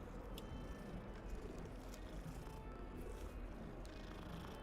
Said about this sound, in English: Nope, it's a cat.